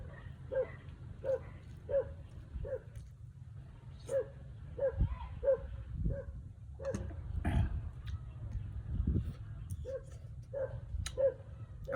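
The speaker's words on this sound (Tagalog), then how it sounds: "Alerto yung mga mga idol, mga aso ko" Several farm dogs bark in short repeated bursts across the yard, some near and some farther off, over a steady low outdoor hum with no talking.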